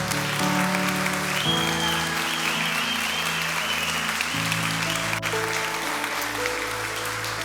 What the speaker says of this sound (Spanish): comenzamos celebrando a cada una de las personas que nos visitan por primera vez con un aplauso